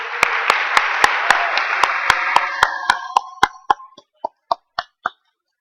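Audience applause for prize designers at a games conference keynote. A brief burst of crowd clapping thins out, leaving a few sharp, evenly spaced claps that fade and stop.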